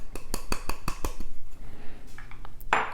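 A whisk stirs sugar, flour and salt together in a bowl for Portuguese orange custard cakes, giving a run of quick, close metallic clinks that thin into softer scraping and end on one bright ring.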